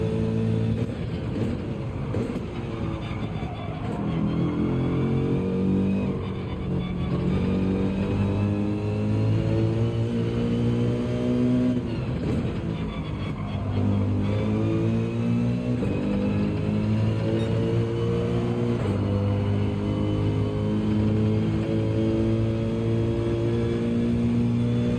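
A racing car in Gran Turismo 7 driving a long run, its engine droning and revving in steady climbing and falling tones, loud and close, with a brief lift around mid-run and no talking.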